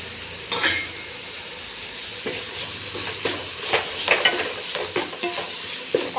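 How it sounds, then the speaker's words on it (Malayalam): Curry ingredients stirred and sautéed in a pan, with salt and ginger-garlic paste added, sizzling steadily while a spoon scrapes and stirs in irregular bursts, close and moderately loud. "ഒന്ന് ഇളക്കി കൊടുക്കാം. ചെറുതായി വഴറ്റി വന്നാൽ മതി."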